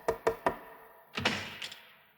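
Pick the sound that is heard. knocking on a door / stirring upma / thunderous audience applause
knocking on a door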